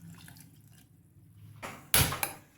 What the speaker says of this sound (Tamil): 1 கப் தண்ணி ஊற்றிக்கலாம்.